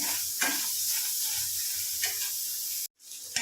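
Chopped onions dry-roasting in a pan with no oil give a steady, close sizzling hiss with faint crackles and one sudden brief cutout before the sizzle resumes.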